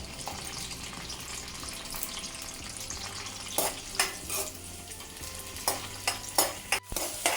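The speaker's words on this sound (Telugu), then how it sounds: "పచ్చిమిరపకాయలు, కరివేపాకు ఇవి బాగా వేగాలి." Green chillies and curry leaves frying in oil for a turmeric pulusu, a constant soft sizzle broken by several sharp scraping stir strokes in the second half, with a faint steady hum beneath.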